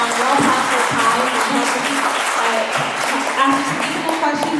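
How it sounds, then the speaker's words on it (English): Audience applause for Elizabeth May at a town hall, a dense, steady round of clapping filling the room, with some voices mixed in. "Yes, please give her a round of applause."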